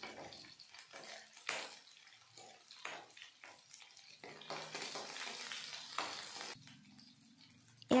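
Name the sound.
onions frying in a pan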